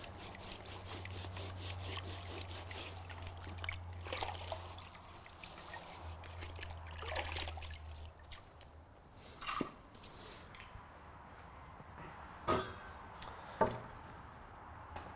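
Plastering trowel washed with water, a steady trickle and splash of running water with faint scraping, followed by a few sharp clinks and taps near the end.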